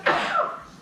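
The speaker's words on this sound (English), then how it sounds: "I'm going to sneeze." Single close sneeze in a home kitchen while chocolate French toast is being made, a sharp loud burst that trails off into breathy noise.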